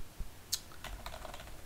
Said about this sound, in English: So I'm typing, as you can see.